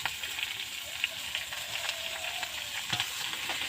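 Leafy greens drop into hot oil already holding fried chillies, producing a continuous bright sizzle with occasional stirring clicks, close and moderately loud.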